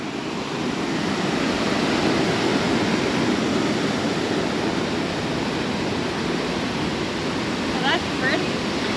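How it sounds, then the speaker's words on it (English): The Cali River flows through the old town of Cali, a steady broad rush of water heard close, loud and continuous, with a few faint bird chirps near the end. "This is what they call the Cali River."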